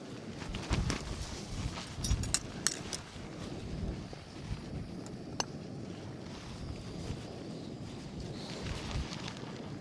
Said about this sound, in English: Maybe I was wrong, it is a bit windy after all.